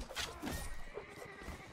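Horses in a video game neigh and whinny several times in quick succession, fairly faint, with a steady background hum and light hoof clip-clop mixed in.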